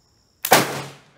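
A rifle fires a single loud shot of Bulgarian 8mm surplus ammunition with hang fire, an abrupt nearby boom that rings out and decays over about a second in otherwise quiet surroundings.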